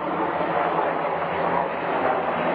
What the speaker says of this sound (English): we have some Israeli helicopters going over right now